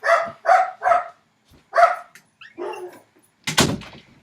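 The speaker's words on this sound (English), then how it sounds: "My dogs are going crazy right now." Indoor dogs bark loudly and close, a quick run of three barks, a pause, another bark, then softer whines and a final sharp bark, with no talk.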